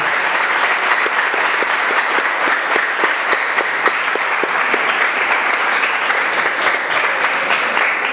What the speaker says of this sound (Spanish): Un fuerte aplauso, muchachos, por favor